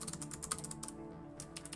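Fast typing on a computer keyboard, a quick irregular patter of close key clicks with a brief pause midway, over a low steady background hum.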